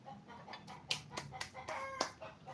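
Chickens on a Filipino home farm give short, sharp clucks and brief crowing calls in quick succession, nearby and moderately loud against a low background rumble.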